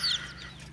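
A hen sitting on duck eggs gives a short, close cluck that fades into a faint low hum; no voices are heard.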